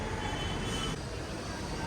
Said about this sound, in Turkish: Metro ile MRT Line 3 hattıyla epey bir gideceğim yine.